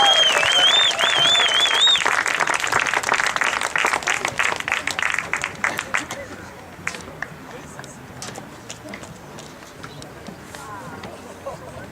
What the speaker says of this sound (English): how about one more large round of applause for our truly exceptional group of seniors.